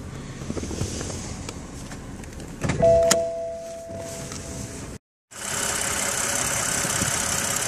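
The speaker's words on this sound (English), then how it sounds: "this is the N55 3-liter inline 6 twin power turbo engine from BMW" A BMW N55 3.0-liter inline-six twin-turbo engine in a 2013 BMW 535i M Sport (F10) runs at a steady idle hum, with a few mechanical clicks early on, then a short break before a louder, even engine drone.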